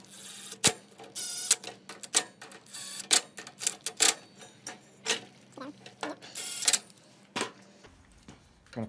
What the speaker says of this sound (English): I'm using a little impact gun here.